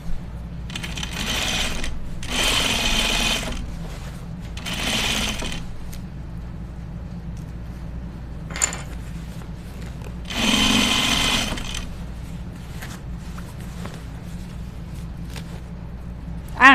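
Sewing machine stitching through jeans while being hand-walked over the zipper teeth, heard in several short whirring bursts separated by pauses and soft handling noises, close and clear.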